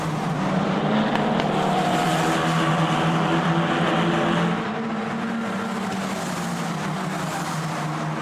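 Historic race cars at full speed on a long straight at the Red Bull Ring, with a steady, loud engine roar that holds throughout and dips slightly partway through, no voices.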